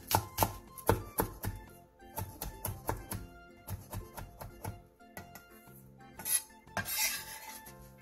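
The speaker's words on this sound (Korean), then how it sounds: "쪽파 5개를 쫑쫑 썰어주세요." A knife chops five scallions into fine rings on a board, a fast irregular run of crisp, close taps and thuds that pauses briefly and then resumes, with no voices.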